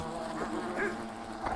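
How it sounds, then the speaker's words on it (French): Large wasps buzzing in the video game Fable The Lost Chapters, a steady insect drone with wavering pitch that swells twice, heard alone without speech. "Oh, regardez les grosses guêpes qu'il y a là."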